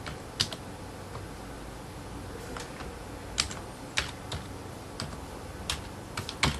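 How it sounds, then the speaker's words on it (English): Fingers tap on a computer keyboard entering personal details, soft irregular key clicks with a few louder strikes, close and quiet with no talking. "I type in my first personal name, my last name, and my email address"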